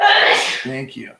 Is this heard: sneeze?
yes